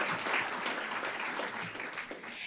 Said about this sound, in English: let people clap for you.